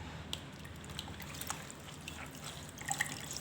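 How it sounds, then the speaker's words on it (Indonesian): Rinse water drips and trickles faintly on a ceramic floor, a few soft scattered drops over a quiet wet background. "Setelah dibilas air,"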